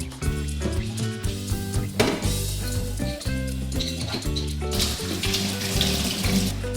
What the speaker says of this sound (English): then you can go ahead and rinse out all the soap